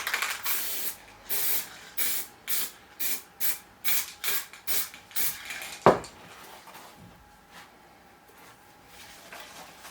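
Varnish sprays onto a budget-built prop pirate sabre in about a dozen short, rhythmic hissing bursts, each followed by a brief pause, then a sharp clack and quiet handling sounds.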